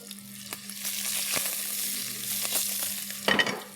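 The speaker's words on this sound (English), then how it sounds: "Allow this to splutter." Tadka spices spluttering and sizzling in hot oil in a pan, a continuous crackling hiss with scattered sharp pops and a brief louder burst near the end.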